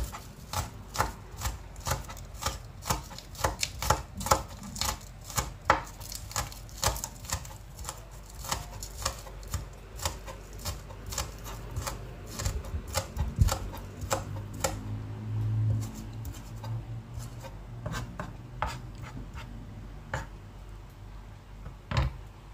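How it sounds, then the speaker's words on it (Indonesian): Spring onions being chopped with a knife for crispy egg-stuffed tofu, heard as a steady run of quick, sharp taps against a board, close and moderately quiet, with no talking. "Langkah pertama akan saya potong-potong daun bawangnya ya"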